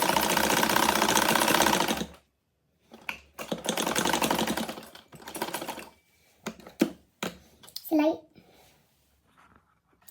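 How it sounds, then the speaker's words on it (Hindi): A sewing machine stitches winter dress fabric in a loud continuous run, then several shorter bursts of rapid mechanical clatter separated by pauses, with someone speaking between the runs. "ये देखो, अब मैं आपको सिलाई करके बताती हूँ।"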